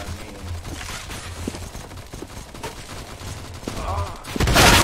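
Gunfire in the Counter Blox Roblox game: scattered sharp shots and bursts at moderate loudness over a steady background hum, with a louder burst near the end.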